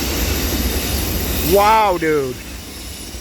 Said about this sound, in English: We're still standing here and still watching the train go by.